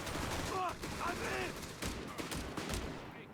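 Rapid gunfire and heavy machine-gun bursts from a Company of Heroes 3 1v1 battle between German and US forces, with sharp repeated cracks over a dense, continuous wash of combat noise.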